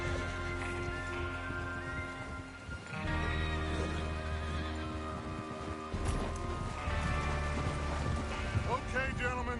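Horses in the Red Dead Redemption 2 video game, whinnying and clip-clopping amid game ambience and mechanical sounds, with faint voices talking underneath.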